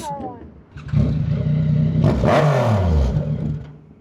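A Yamaha R1 sport motorcycle engine revs up sharply nearby, rising in pitch then dropping off, while people talk in the background.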